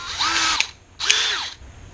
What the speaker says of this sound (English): Just electric drill. Get your drill bit that fit.